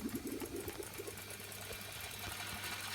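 A Revox A77 MKII reel-to-reel tape recorder, a Hammond version, rewinding, giving a steady mechanical whir with a low motor hum and fluttering chatter early on, close and continuous throughout.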